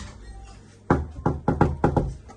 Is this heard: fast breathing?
no